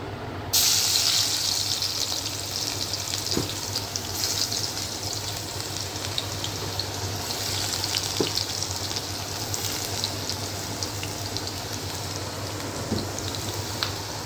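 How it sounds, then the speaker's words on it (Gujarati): Ginger garlic paste sizzles in hot oil already seasoned with mustard and fenugreek seeds, a steady hissing crackle that holds close and fairly loud throughout, with a few soft clicks and taps. "હવે અંદર આદુ લસણની પેસ્ટ નાખવાની છે અંદર"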